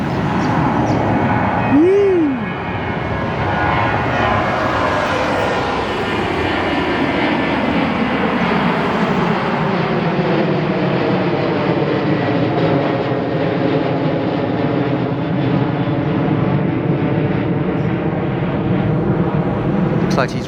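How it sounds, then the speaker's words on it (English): A Qantas Boeing 737-838 jet with winglets takes off on runway 14, heard from roadside as a loud, sustained engine roar that stays steady for the whole stretch. The roar's pitch slowly sweeps as the aircraft passes. "589er rolling down runway 14 on her way to Sydney."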